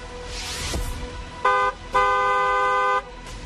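A car horn honks twice nearby, a short blast followed by a longer sustained one, over faint traffic background.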